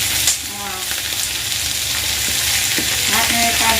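Tomatoes frying in a pan for Filipino ginataang isda, with a loud, steady sizzle and scraping stir strokes running throughout, close and without talk.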